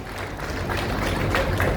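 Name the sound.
audience applause at a speech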